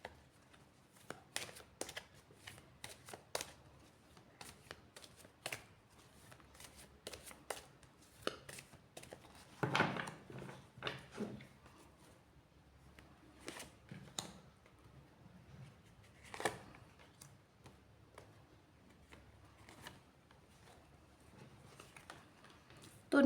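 Tarot cards are shuffled by hand at close range, giving a quiet, irregular run of soft riffling slaps and flicks spread throughout, with occasional louder bursts.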